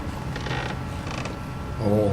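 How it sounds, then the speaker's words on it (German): Loud wooden creaking from a mechanism in the video game Little Nightmares, drawn-out groans coming in a few uneven bursts and ending in a deeper, swelling creak, with no talk. "das knarzt da"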